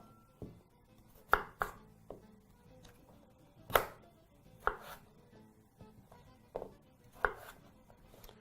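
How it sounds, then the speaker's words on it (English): A knife chops through potatoes, cutting them into wedges on a board in irregular sharp knocks, about a dozen close, crisp strikes against a quiet kitchen background. "So begin by slicing right through the center lengthways and chop once more into quarters."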